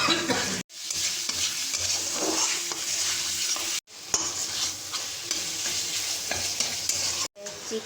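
Red chilli paste and tomato fry in a pan while being stirred, a constant close sizzle with scraping stirs, broken by a few brief silent gaps, no talking.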